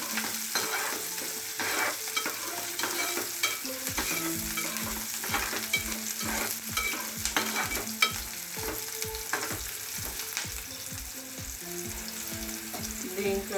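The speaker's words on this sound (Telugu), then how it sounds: "కొద్దిగా ఫ్రై చేసుకుందాము." Onions frying in a pan for a yellow cucumber curry, a steady sizzle with rhythmic scraping and stirring strokes, close and moderately loud, no talk.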